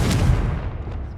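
A Confringo spell explodes in the Hogwarts Legacy video game as a single loud, booming blast with a deep rumbling body that quickly fades.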